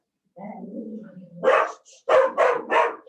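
A dog barks at the postman, several sharp barks close together at the end after a softer lower whine, fairly close and loud.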